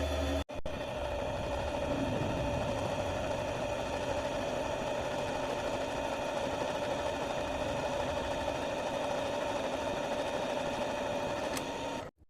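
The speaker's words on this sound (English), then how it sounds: "stick it here on the lathe, and we're going to true up this slip ring" A lathe spins an alternator slip ring from a Valeo 180-220 amp unit while it is trued up, giving a steady mid-pitched mechanical whine and hum that runs evenly for about twelve seconds, then cuts off abruptly at the end.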